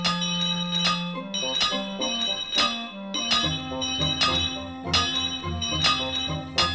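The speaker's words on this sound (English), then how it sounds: "He had heard the banging and Toby's bell ringing." A toy-train engine's bell rings out in a rhythmic series of bright, sharp metallic strikes mixed with clanging bangs on metal, set against a tonal musical background with no talking.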